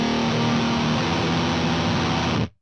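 An electric guitar plays through an HM-2 distortion pedal for a buzzing chainsaw tone, a loud, thick, saturated wall of sound held continuously before cutting off abruptly at the end.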